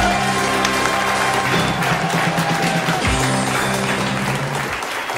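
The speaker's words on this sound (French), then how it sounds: "en faisant un tonnerre d'applaudissements" A studio audience at a French game show claps in a dense, steady burst of applause, loud and close, fading slightly at the end.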